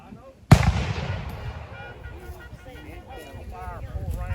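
A single sharp gunshot cracks loudly near the start outside a historic frontier-style home in Mississippi, then rings out and decays, followed by people talking in the background.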